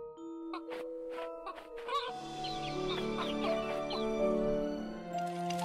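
Clucking chickens and cheeping chicks in a puzzle game about a mother hen searching for her chicks, with a few chime tones at the start, then repeated clucks over a sustained musical backdrop.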